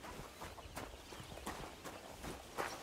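Horses in a medieval fighting game walk at a slow pace, their soft irregular clip-clop hoofbeats quiet against faint background ambience.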